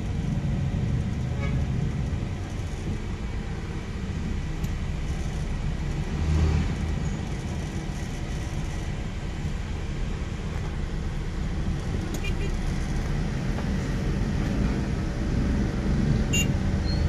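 Busy road traffic in Malate streams past with a constant low rumble of engines and tires, occasional louder swells of nearer vehicles and faint beeps, heard at moderate level without talk.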